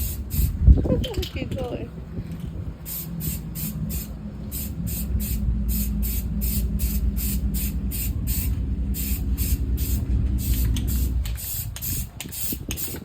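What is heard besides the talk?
spray painting an AR-15 rifle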